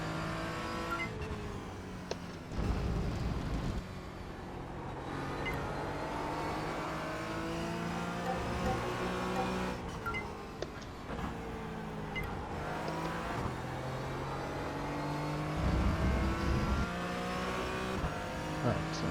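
A race car engine revs and drones steadily through a single lap, rising and falling with throttle changes and gear shifts, loud and continuous with a few sharper surges and no talking.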